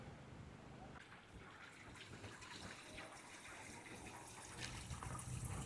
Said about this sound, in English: More running water here.